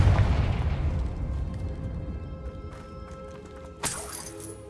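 A Confringo fire spell bursts with a sudden sharp crack near the end of a low, fading rumble in Hogwarts Legacy, a single brief explosion against a dim background.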